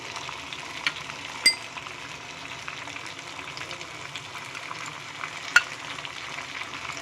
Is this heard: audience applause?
no